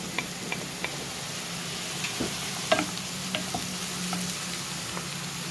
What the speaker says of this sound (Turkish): Yeşil biberlerimi de ekliyorum.